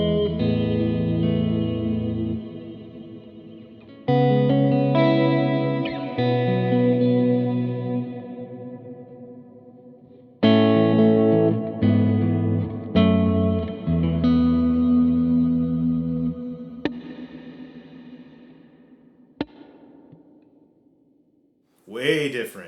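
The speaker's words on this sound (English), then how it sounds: "You're really going to hear brightening and darkening of this reverb." Electric guitar played through a Line 6 Dynamic Hall reverb with its damping being adjusted, sustained chords and single notes blooming into lush, lingering hall tails that shift from bright to darker as phrases ring out and decay.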